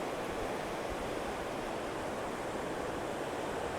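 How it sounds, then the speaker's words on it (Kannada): Water of the Lohit river flows in a steady, dense broadband rush. It runs unbroken throughout at a moderate, even level, with no voices. "ಲೋಹಿತ್ಯ ನದಿ."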